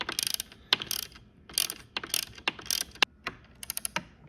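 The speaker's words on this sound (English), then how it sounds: "Sorry, standard ratchet." A standard ratchet turns a socket on the seat bolts of an E39 BMW M5, giving bursts of quick, close metallic clicking separated by short pauses, with no talking.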